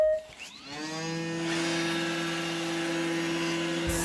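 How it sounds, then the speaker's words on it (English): A Roomba 880 robot vacuum starts up after a brief click, its motor rising in pitch to a steady high whine and hum that runs close by. "There the Roomba is."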